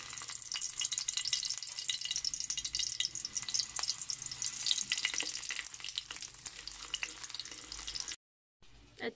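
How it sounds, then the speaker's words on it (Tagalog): A hotdog frying in a pan gives off a steady, crackling sizzle with dense popping throughout, cut off by a brief silence near the end. "Pipirituin na natin yung hotdog."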